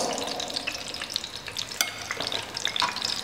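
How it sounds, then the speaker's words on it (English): Bay leaves, cardamom and cloves fry in hot oil for veg fried rice, giving a steady close crackling sizzle with occasional pops and stirring scrapes, no voices. "After that you have to put bay leaves, cardamom and that cloves."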